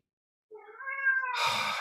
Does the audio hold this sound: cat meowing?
yes